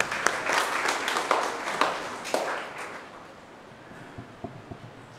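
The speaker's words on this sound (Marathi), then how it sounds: "पुन्हा एकदा टाळ्या वाजवा." A church congregation claps for departing priests at a farewell Mass, a burst of applause that swells briefly, then thins out into scattered claps and a few sharp taps as it dies away.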